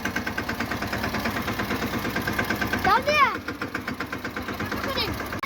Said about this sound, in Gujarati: તો ભાઈ ટ્રેક્ટર મારું આવ્યું છે ધીમું ધીમું.